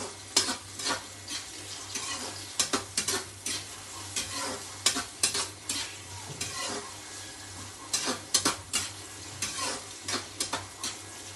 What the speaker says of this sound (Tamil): ஸோ இது ரெண்டுத்தையும் நம்ம சாட்டே பண்ண போகிறோம்.